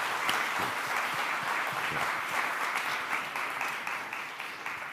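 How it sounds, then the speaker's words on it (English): An audience at a democracy forum applauds the panelists. The clapping is dense and even from many hands, sustained at an even level for the whole stretch, with no speech over it. "So please, a round of applause to..."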